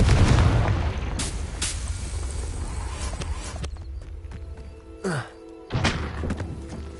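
Spell blasts in the video game Hogwarts Legacy: a few close, heavy thumps and booms separated by quieter stretches, with a short whooshing burst near the end.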